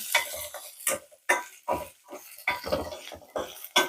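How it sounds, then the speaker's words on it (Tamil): Garlic sautéing in a pan for a dried anchovy curry, heard as repeated scraping stir strokes of a ladle against the pan over a soft sizzle, close and fairly loud in uneven bursts. "அந்த பூண்டையும் நம்ம சேர்த்துக்கலாம் நல்லா வதக்கிக்கலாம்"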